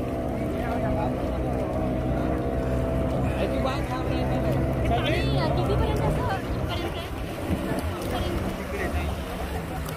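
A speedboat tows a sofa ride with four riders at Devbag beach, its engine droning steadily and loudly while water rushes and excited voices and shouts carry over it throughout.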